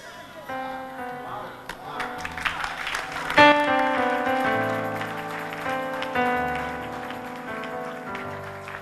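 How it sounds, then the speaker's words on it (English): A church congregation claps together in a dense, continuous patter over sustained musical tones and voices, swelling noticeably midway and continuing to the end. "The clapping means that you cannot absorb more."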